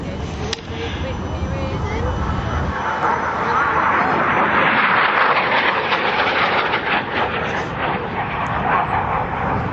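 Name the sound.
RAF Harrier GR7 jet at airshow display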